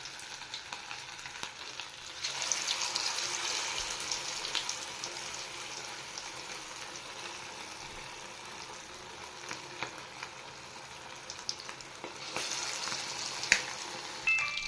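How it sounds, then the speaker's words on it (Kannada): Chicken kebabs deep-frying in hot oil, a dense, even crackling hiss that swells louder as pieces go in, with occasional pops and light clinks, no speech. "ಅರ್ಧ ಅವರು ಆದಮೇಲೆ ನಾನು ಕಬಾಬ್ ಹಾಕ್ತಾಯಿದ್ದೀನಿ. ಎಣ್ಣೆಯಲ್ಲಿ ಒಂದೊಂದೇ ಸೇರಿಸ್ಕೋಬೇಕು,"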